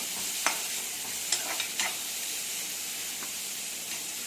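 Finely chopped medium onion and green chillies fry in oil with a continuous close hiss, while a spoon stirs and clacks against the pan a few times.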